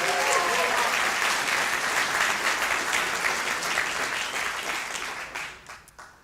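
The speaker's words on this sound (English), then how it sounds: "Give a round of applause for Maria, too." Dinner guests at a PACC annual awards dinner applaud in a dense, sustained crowd wash that holds steady, then thins out and fades to a few last claps near the end.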